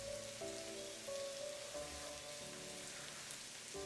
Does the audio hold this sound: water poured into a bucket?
no